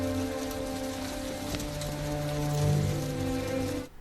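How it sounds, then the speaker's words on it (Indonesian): A sudden hailstorm in the 2011 film Melancholia comes through as a dense, steady patter of hail on surfaces, holding near and fairly loud before cutting off abruptly at the end. "Mana di jalan tiba-tiba hujan es lagi."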